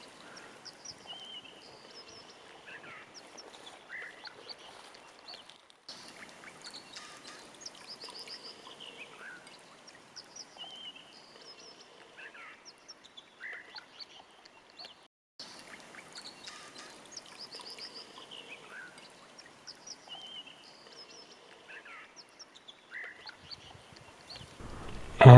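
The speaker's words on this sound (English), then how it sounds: "let's just follow this little stream down and see where it connects with the Tuolumne River" A small mountain stream in Yosemite's Poopenaut Valley flows toward the Tuolumne River, giving a faint, steady trickling wash, with scattered bird calls above it and a couple of brief drop-outs.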